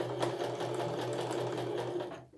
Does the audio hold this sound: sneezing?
no